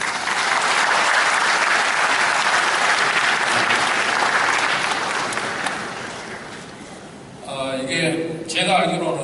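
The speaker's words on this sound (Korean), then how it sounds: "우리 두 분 교수님께도 박수 한번 드리겠습니다" Loud applause from a ceremony audience honoring two professors at a safe-city proclamation event, holding steady then fading, after which a voice speaks over the tail.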